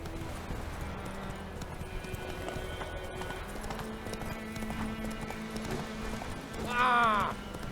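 Roach the horse gallops in The Witcher 3, a rapid, steady clip-clop of hooves over ambient game sound, with a short whinny near the end.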